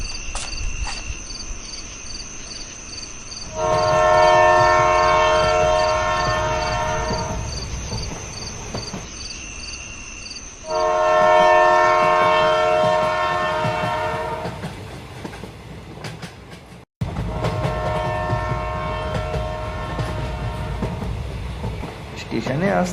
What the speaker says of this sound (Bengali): স্টেশনে আসতেই ইতিমধ্যে একটা ট্রেন পেয়ে গেলাম।